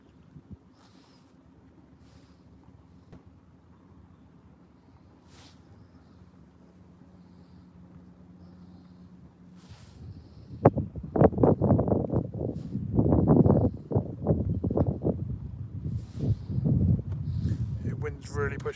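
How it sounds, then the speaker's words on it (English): Wind gusting around a small boat while pike fishing on the Norfolk Broads in winter, a low steady rush that swells into loud buffeting microphone noise in the second half. "The wind's really pushing me about now."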